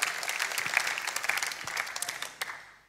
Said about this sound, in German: Applaus für den Michi Stricker.